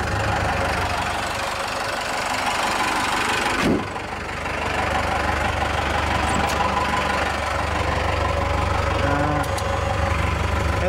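Cummins diesel in a Bull Nose Ford truck runs with a heavy, rumbling drone, a brief dip as it is put in gear and pulls away, then a steady loud engine roar from inside the cab.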